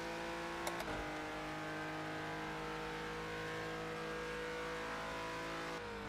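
A Greenwood race car engine in Project CARS 2 drones steadily at high revs during a Renault Cup race at Circuit of the Americas, a constant loud buzzing tone with a brief sharp click early on.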